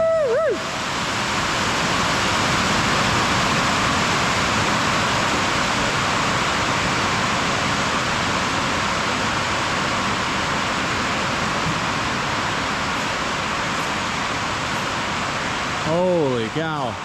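Heavy rain pouring down outdoors at a work site during a concrete pour, a loud, dense, steady hiss that holds constant for most of the stretch before easing at the end, where a voice briefly comes in.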